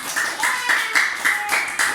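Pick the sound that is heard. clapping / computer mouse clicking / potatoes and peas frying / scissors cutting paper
clapping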